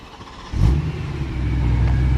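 A BMW E92 M3 fitted with a new exhaust starts up close by, giving a quick crank and a loud burst that settles into a steady, deep idle rumble.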